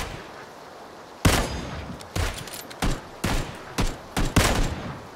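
Rapid bursts of gunfire in the video game PUBG: Battlegrounds ring out in several sharp volleys, loud and close, with short gaps between them over a low background hum.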